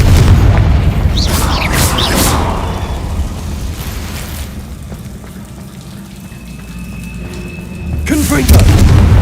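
Confringo blasting spells explode in Hogwarts Legacy, with booming bursts near the start and again near the end over a rumbling, crackling backdrop and a voice speaking throughout.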